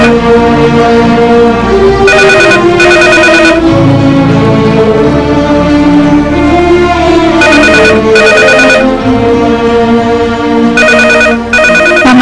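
A telephone rings in repeated double bursts, three times, over loud, continuous dramatic background music.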